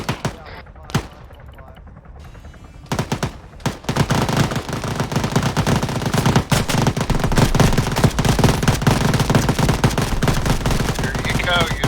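Rapid machine gun fire in a video game starts with sparse shots, then becomes a loud, sustained automatic burst that fills the rest of the clip.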